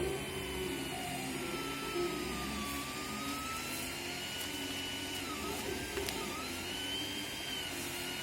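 A simple 3D printer prints a part up close with a steady whirring hum and gliding stepper-motor tones that rise and fall as the print head moves, continuous and fairly quiet, with no voices.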